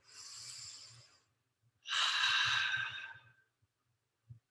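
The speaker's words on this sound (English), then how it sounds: "Let's take one more good deep breath in, everybody." A group of people in a yoga and flex class draw two long, audible deep breaths close by, the second louder and fuller, with a soft exhale and a small thump after.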